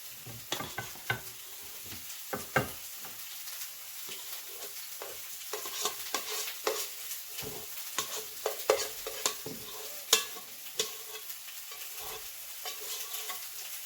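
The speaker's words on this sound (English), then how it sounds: "let's go ahead and add our mix to the pan" Squash casserole mix is scraped and spread into a baking dish, giving soft, irregular scraping and tapping sounds with a few sharper clinks, close and fairly quiet, with no talking.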